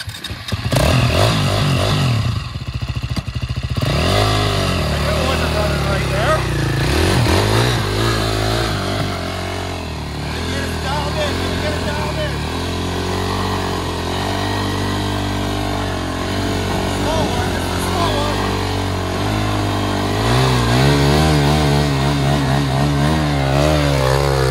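A KTM quad doing a burnout, its engine revving hard and steadily at high pitch for over twenty seconds, loud and close, with a rough wavering drone and no break in the noise.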